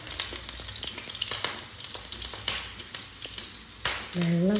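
Pieces of tuna sizzle and spatter in hot sunflower oil for a Kerala tuna fry, a dense, close crackle with irregular pops, ending in a short tonal sound at the very end.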